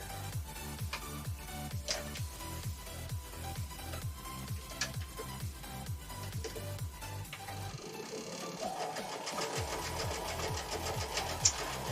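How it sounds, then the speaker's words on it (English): A sewing machine runs in quick bursts as quilt pieces are stitched together in pairs, its needle chattering in a rapid mechanical rhythm with short pauses between seams, close and fairly quiet. "I'm gonna go ahead and sew up all of these as pairs"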